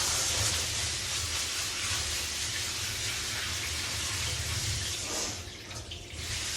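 A broken kitchen sink faucet runs with a steady, close hissing stream while food is rinsed under it, continuous for several seconds before easing slightly near the end.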